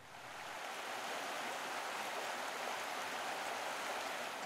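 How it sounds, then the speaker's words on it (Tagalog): River water flowing steadily at a river crossing, a dense, continuous rushing wash that swells in over the first half second and then holds loud and even, with no voices. "Ito na po yung huling tawid namin ng ilog."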